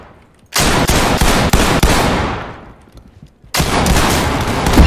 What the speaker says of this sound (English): You just started shooting!